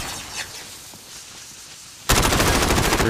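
Sustained MP5 submachine-gun fire in a Call of Duty League esports match between Minnesota Røkkr and Chicago Huntsmen bursts in loud and dense after a stretch of quieter game ambience, rattling continuously to the end.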